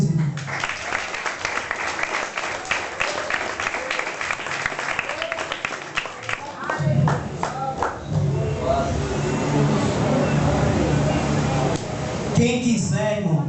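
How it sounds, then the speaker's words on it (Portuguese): A church congregation clapping in praise during a Pentecostal service, loud sustained applause filling the room while a preacher speaks over it and voices rise around. "Palmas para Jesus, irmão."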